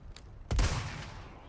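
A single loud gunshot from the Resident Evil 4 Remake blasts out close and sharp, then rings off into a fading rumble, with a faint softer crack just before it.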